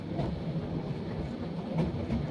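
Steady rumbling rattle of the Turna Express intercity train running, heard as a continuous, even roar of wheels and carriage with faint rhythmic clicks, close and enveloping.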